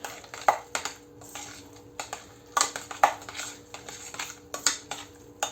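A utensil scrapes and clinks against a dish while mustard is stirred into a hot dog casserole, giving a steady series of close, sharp taps and scrapes in an irregular rhythm, with no one talking.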